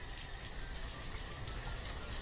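Steady rain in the village-building game Banished, a dense even hiss of falling drops with no talk, moderately quiet and unbroken throughout.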